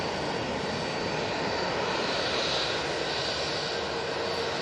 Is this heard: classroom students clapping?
no